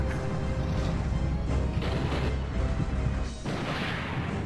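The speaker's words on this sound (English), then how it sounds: "it might interrupt the animation of my soldiers shooting them" Soldiers firing in the war video game Ring of Red, a dense, loud barrage of crashing gunfire and mechanical clatter filling the whole stretch, with a sharp burst near the end.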